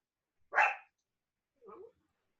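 A miniature pinscher barks twice indoors: one sharp, loud yap followed a second later by a shorter, quieter bark, with silence around both.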